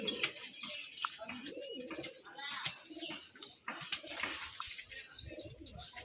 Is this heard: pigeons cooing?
yes